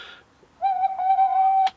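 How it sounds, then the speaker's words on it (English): A single owl hoot sound effect, a clear, close, sustained tonal call lasting about a second, ending with a short click. "It's the wise Noodle Owl."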